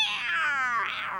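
A voice imitates a cat with one drawn-out, rising and falling meow, close and clear, heard alone.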